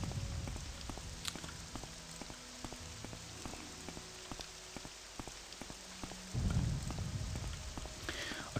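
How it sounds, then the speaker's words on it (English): Steady rain patters across the whole stretch in the Morrowind game world, with scattered drop hits and a brief heavier burst of rumble near the end, all fairly quiet and with no talking. "Rain, I hate rain."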